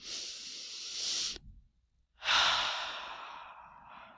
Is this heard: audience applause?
no